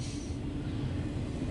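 A CSX intermodal freight train passes at night, a steady low rumble of rolling cars filling the short stretch at moderate distance, with no talking.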